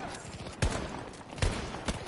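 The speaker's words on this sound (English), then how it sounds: "Shot him 3 times, close range, and he survives." Gunshots in Battlefield 2042 at close range: three sharp, punchy shots spaced under a second apart, set against a steady wash of game ambience.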